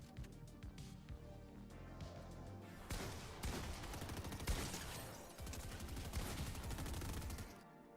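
Gunfire in Fortnite, with rapid, sustained bursts of automatic shots that repeat close and steady, then briefly pause before more shooting resumes.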